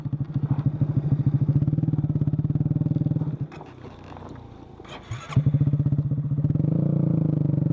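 A stock Honda Grom motorcycle ridden off-road chugs with a close, loud, pulsing engine note. The engine drops away for a couple of seconds amid clatter and thumps, then surges back steadily.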